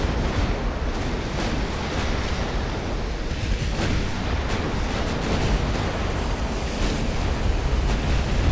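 Naval 6-inch guns fire in the UA: Dreadnoughts naval battle game, a dense continuous rumble of booms and roaring sea-like noise that stays loud and unbroken throughout, with no talking.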